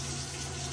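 Tap water runs steadily at close range to wet an armpit before shaving, a dense continuous stream with no talk over it.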